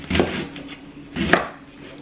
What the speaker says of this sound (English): I'm gonna cut this in thirds